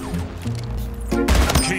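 Pistol fire in the Splitgate arena shooter: a few sharp, loud shots in quick succession, with a denser burst near the end, set against game sounds.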